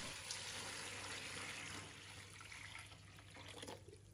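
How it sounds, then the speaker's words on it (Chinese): Clean water pours steadily into a basin to soak chopped Chinese chives in a home kitchen, a continuous close splashing flow that eases slightly toward the end, with no talking. "倒入清水"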